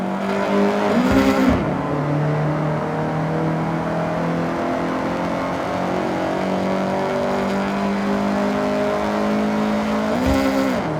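Honda CRX in Forza Horizon 6 drones steadily at speed, a close engine whine with a sharp rev and gear change near the start and another near the end, no talk.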